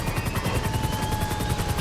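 Helicopter in the GTA 5 Grand RP role-play game, a steady whirring rotor drone with a sustained tonal whine, continuous and fairly loud throughout, with no talk.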